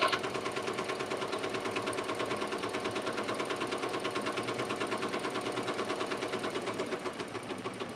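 A Ricoma Marquee 2001 embroidery machine stitches sweatshirts, running at a fast, even mechanical chatter of rapid needle strokes that holds steady for the whole stretch, close by, with no voices.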